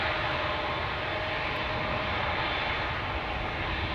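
Boeing 787 Dreamliner PH-BHM, a seven-year-old jet at Amsterdam Schiphol Airport, giving off a steady, fairly faint engine roar and rumble that holds constant throughout.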